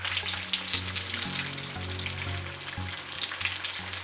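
Banana fritters sizzle and crackle steadily in hot oil while frying Kerala style, a continuous close sputter with fine popping throughout and no voices.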